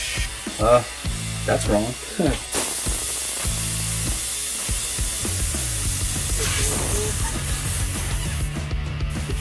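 Compressed air hisses steadily into a tire on a tire-changing machine, inflating it to 40 psi to seat the bead, a loud continuous rush running under intermittent speech and clanks in a shop.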